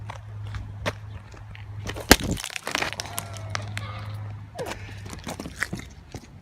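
A coconut cracked open with one sharp, loud crack followed by scattered knocks and rustles in a quiet outdoor setting near a car, faint talking around it.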